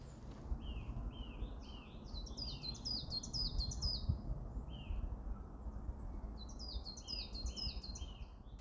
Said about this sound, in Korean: 다솜의 봄날의 새소리 들으면서 마무리하겠습니다.